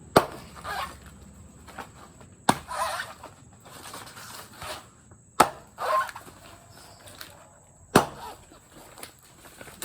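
A Rambo knife chopping open a sprouted coconut, four sharp hard whacks spaced a couple of seconds apart, each followed by rustling, cracking husk and handling noise at close range.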